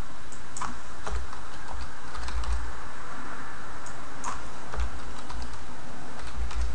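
Quick bursts of key presses on a computer keyboard as a port number is entered, close and crisp clicks in short clusters separated by brief pauses.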